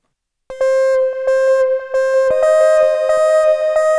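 An Arturia PolyBrute synthesizer plays a bright, buzzy sequence whose filter is rhythmically swept by the new LFO3 curve, giving repeated clicking pulses and a pitch step partway through, loud and up close.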